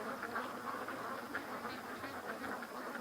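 Ducks quack faintly in short scattered calls as they leave the water, heard at a distance over a soft, constant outdoor background.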